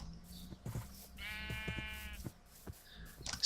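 A sheep in Minecraft gives one clear, drawn-out bleat in the middle of the clip, with faint game ambience and small clicks around it.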